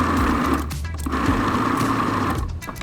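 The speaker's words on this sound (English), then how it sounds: "I can't just put curly fries on the chicken, so we gotta blitz them up first." A blender blitzes curly fries into crumbs for a fried chicken coating, giving a loud, steady motor whir with brief dips in pitch as the load shifts.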